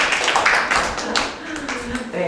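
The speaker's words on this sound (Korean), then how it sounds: "박수 한번 부탁드립니다." Audience at a Korean forum launch in a hall claps briefly and loosely, a short burst of applause fading as a voice begins.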